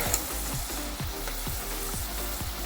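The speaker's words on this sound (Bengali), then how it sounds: "হানি পটাটোর আলুগুলো সমস্ত ভেজে নিয়েছি" Potatoes for honey chilli potato deep-frying in a wok, heard as a close, steady bubbling sizzle with a low, pulsing rumble underneath and no voices.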